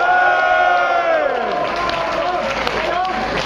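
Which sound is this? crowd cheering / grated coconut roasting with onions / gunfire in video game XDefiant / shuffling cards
crowd cheering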